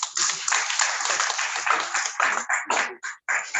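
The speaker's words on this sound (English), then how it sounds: "Round of applause for him." Audience clapping at a World Soil Day celebration event, loud and close, a dense continuous wash of hands that briefly thins and drops out near the end before resuming.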